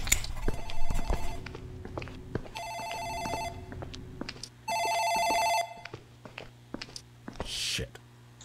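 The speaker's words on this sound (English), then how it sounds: "I think that's the phone in the office rings." Office telephone ringing in the video game Dark Fracture, with repeated bursts of electronic ringing separated by short pauses, set against a steady low hum and scattered thumps and footsteps.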